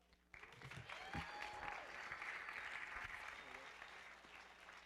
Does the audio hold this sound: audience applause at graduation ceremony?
yes